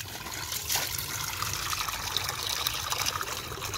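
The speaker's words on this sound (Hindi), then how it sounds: "फ्रेश पानी जो है ना वो डक्स वगैरह के लिए और चूज़ों के लिए भर लेते हैं" Water trickles and splashes steadily into a container filled with fresh water for ducks and chicks, a continuous close pour with a faint hiss, no voices.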